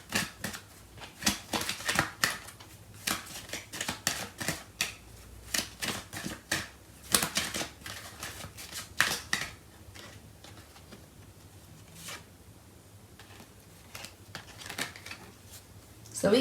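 Tarot cards are shuffled in quick crisp bursts of riffling and tapping, close and fairly quiet, with a voice talking at points between the bursts.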